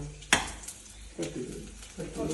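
Fenugreek seeds fry in hot coconut oil in a pan, a sharp clink then soft sizzling and stirring scrapes coming in short bursts.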